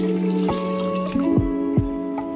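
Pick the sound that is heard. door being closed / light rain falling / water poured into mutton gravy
water poured into mutton gravy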